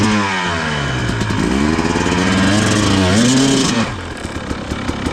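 An enduro dirt bike engine revs hard for a clutch-dump wheelie, its pitch climbing and dipping through several surges before easing off; loud, close and alone, with no talk.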